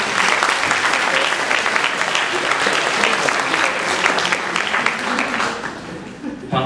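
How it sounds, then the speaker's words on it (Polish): Audience applause for a volunteer invited on stage at a talk or lecture, a steady, dense clapping that fills the whole stretch, loud and close, tapering slightly at the end. "Brawa dla ochotnika"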